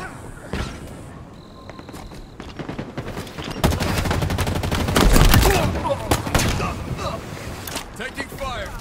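Rapid bursts of automatic and rifle gunfire in a Halo Big Team Battle match, loud and sustained with heavy impacts, while a player talks over the shooting.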